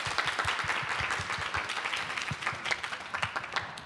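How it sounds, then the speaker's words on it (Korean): Audience applause at a Korean panel program with young students, a sustained even patter of many hands clapping, moderately loud and continuous throughout. "우리 스스로를 격려하는 차원에서 우리 박수 한번 쳐볼까요?"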